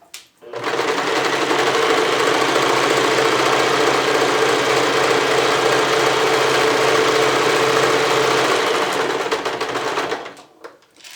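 A sewing machine runs steadily for about ten seconds, stitching fabric for a thermal therapy pillow, a loud continuous motor whir with rapid needle chatter from start to stop.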